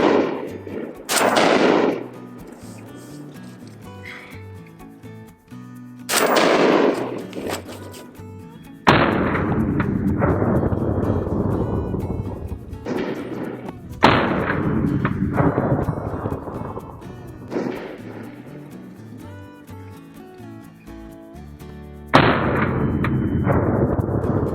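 Rifle shots from 7.62x39 Red Army Standard ammunition with the 8V3 projectile fired into ballistics gel, several sharp loud reports spaced a few seconds apart, each trailing into a long ringing decay, no talking.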